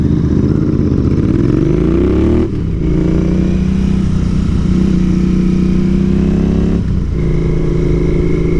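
A Royal Enfield Continental GT motorcycle with a 2-into-1 exhaust revs up and down, a loud, deep, thumpy engine note that rises, dips briefly twice, and keeps burbling close by.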